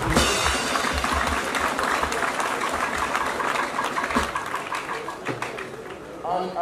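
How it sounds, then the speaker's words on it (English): An audience applauds at a customs welcoming ceremony for the Comptroller-General, with sustained, dense clapping that carries throughout, mixed with murmuring voices and a slight crowd roar. "Let us applaud you."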